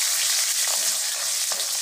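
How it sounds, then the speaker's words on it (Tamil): Onion sautés in a pan while bisibelebath is being cooked, giving a steady, bright sizzle close by with slight stirring variations. Nobody speaks during the short burst. "ஆனியன் போட்டு 1 வதக்கு வதக்கிக்கலாம்"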